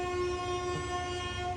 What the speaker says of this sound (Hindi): भाई इनकी जीतने की खुशी में ट्रेन ने भी हॉर्न बजा दिया है।